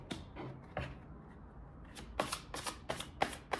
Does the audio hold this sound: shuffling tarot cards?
yes